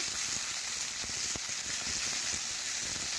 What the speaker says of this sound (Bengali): ভেন্ডিগুলো একটু আমি গরম তেলে একটু নাড়াচাড়া করে ভেজে নিচ্ছি